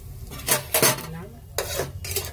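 Dried red chillies, bay leaf, garam masala and cumin seeds frying in oil are stirred in a pan, giving a few close, bright scraping bursts of utensil against metal over a low background.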